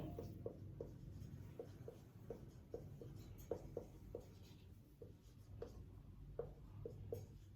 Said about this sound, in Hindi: मैं कुछ ऑप्शंस लिख रहा हूं